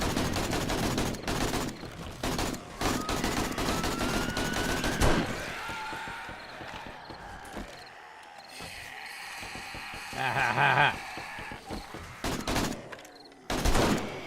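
Sniper rifle shots in the video game 7 Days to Die during a horde night, several sharp loud reports with echoing tails spaced a few seconds apart, mixed with game effects and clatter.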